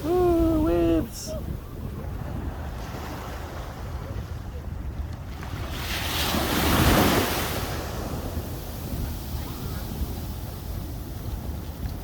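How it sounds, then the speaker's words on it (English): Sea waves breaking on a beach, a steady wash of surf with wind buffeting the microphone and one wave swelling louder near the middle; a voice exclaims briefly at the start. "Wow, look at them waves."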